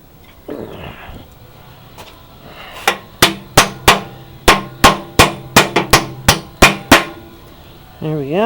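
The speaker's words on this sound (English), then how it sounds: "smack them with a hammer and see what happens" Sharp, ringing hammer blows on a Corvair upper A-arm, about a dozen strikes in a quick uneven rhythm, loud and close, with a faint voice at the start and end.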